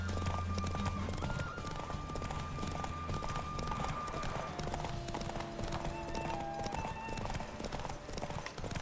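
Hoofbeats of a horse galloping in The Witcher 3 video game run steadily under a busy game soundscape, fairly faint, with a brief voice early on.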